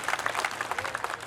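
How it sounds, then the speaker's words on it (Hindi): Enthusiastic clapping from an audience at an award ceremony honouring a guest, a dense, rapid round of applause heard up close throughout. "इनके लिए जोरदार तालियां हो जाए।"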